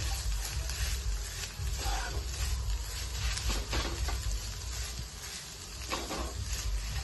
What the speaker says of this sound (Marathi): चांगलं असं भाजून घ्यायचं